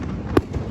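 A loud firework burst goes off once in the middle, a sharp crack with a booming low end over steady crowd and background noise, with a fainter follow-up pop shortly after.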